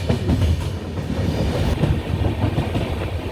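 The Island Express passenger train running through Kerala with sleeper coaches, heard from inside as a loud continuous rumble with steady clickety-clack of wheels over rail joints.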